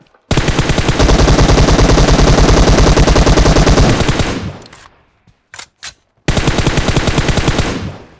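Automatic gunfire in the mobile shooter PUBG Mobile, loud and close: a long rapid burst lasting about four seconds, a couple of short isolated shots, then another sustained burst.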